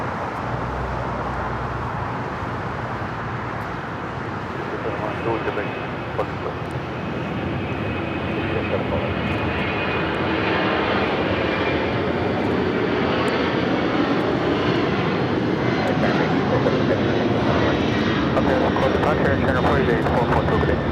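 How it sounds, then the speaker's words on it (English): An Air China Cargo Boeing 747-400 freighter takes off, a loud sustained jet engine roar that swells steadily and builds toward the end, with broadband rumble and a faint tonal whine throughout. "This is Air China Cargo 8442 taking off to Shenyang on the 747-400 freighter."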